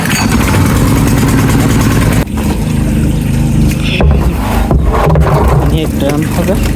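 A generator engine runs in the morning to pump water, a loud, steady mechanical drone with a constant throbbing hum that carries on evenly throughout.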